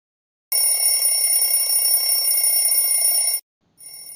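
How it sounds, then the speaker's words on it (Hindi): A loud, shrill electronic ringing goes on for about three seconds, stops, then starts again briefly, with silence before and between. "सुबह होने पर अलार्म बजता है।"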